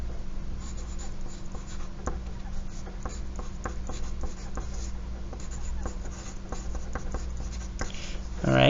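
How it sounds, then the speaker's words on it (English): Pencil scratching across paper as a name is written, steady close scribbling strokes with a low hum underneath. "So first, you're going to write your name."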